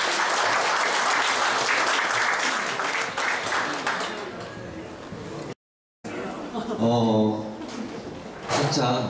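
Warm applause from an audience at a photography club's annual members' exhibition opening in a Seoul gallery, dense clapping for about five seconds, then a brief gap followed by a host speaking over lighter scattered claps.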